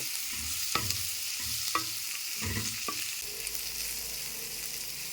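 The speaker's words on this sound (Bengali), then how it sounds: "এরপর আমি একটু নাড়াচাড়া করে ভাজা ভাজা করে নেব।" Onion with salt, turmeric and spice powder frying in a pan, with a steady close sizzle and several distinct scraping knocks as it is stirred. No one speaks.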